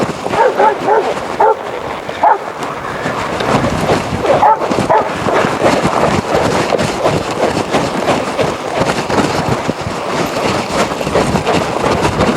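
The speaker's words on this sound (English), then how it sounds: "And a dog." A dog barks repeatedly in quick bursts near a horse ride, loud and close, with whimpering yips mixed in and some rumbling noise underneath.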